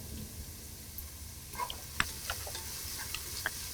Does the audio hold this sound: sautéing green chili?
yes